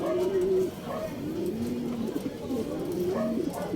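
Soft, low cooing from a blue bar racing pigeon, repeated in gentle rolling phrases, with faint background noise.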